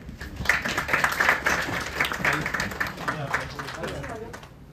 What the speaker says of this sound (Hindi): इसलिए तालियां दें